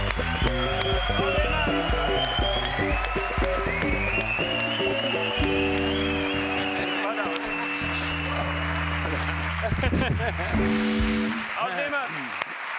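A television studio audience in Spain applauds to welcome a comedian guest onto a late-night talk show; loud sustained clapping and cheering with music playing underneath, while the host announces the guest over it.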